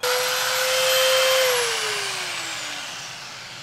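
A belt sander sands the wall of a vintage camper under rebuild, a loud steady motor whine that drops gradually in pitch as it spins down, with broad abrasive hiss and no talk.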